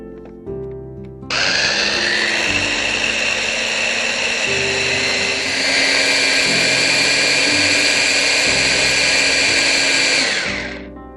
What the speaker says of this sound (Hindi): ब्लेंड कर लेंगे